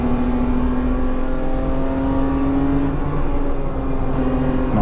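Race cars accelerating along the straight at the Dijon circuit in a Superberline 2.0 sprint race, a loud steady engine drone rising in pitch for several seconds with no talk.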